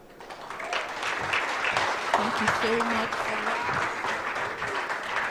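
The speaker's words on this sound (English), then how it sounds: "You can keep clapping." At the FlutterBytes tech conference in Eko Arena, an audience claps steadily throughout, with a continuous crowd applause under a speaker thanking them over a microphone.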